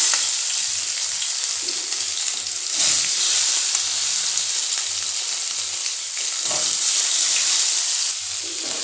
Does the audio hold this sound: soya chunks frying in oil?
yes